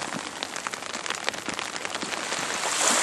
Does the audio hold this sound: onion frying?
no